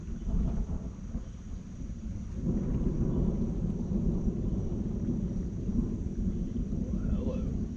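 A steady, low rumble of thunder rolling on through a night of catfishing on the Neuse River in North Carolina, with faint insect or frog calls in the background.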